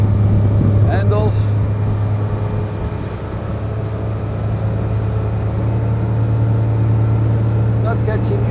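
A Sea Ray SLX 250 sport boat motoring through short turns, its engine a steady low hum with water rushing around the hull, while a person talks over it.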